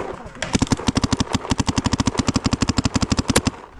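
Rapid string of about thirty sharp paintball gun shots at a steady fast rhythm, loud and close, fired during an outdoor paintball game among bunkers and barrels.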